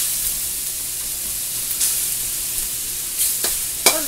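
Chicken pieces sizzling steadily in a hot pan for a teriyaki stir fry, a constant bright hiss with a few sharper crackles and pops near the end, close up and without talk.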